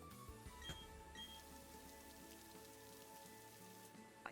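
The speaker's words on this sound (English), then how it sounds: "It does really annoy me that the rain water the berries as well." Steady, soft rain pattering across the ground in the Pokemon Shining Pearl video game, a continuous quiet wash of drops with no voices.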